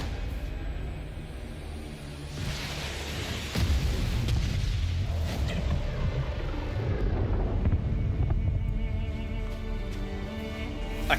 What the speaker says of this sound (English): I can't believe they set off an explosion behind her just for the cool factor.